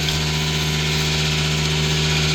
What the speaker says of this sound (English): Start building vacuum again, but we'll start turning the revs down. Machine gets quieter.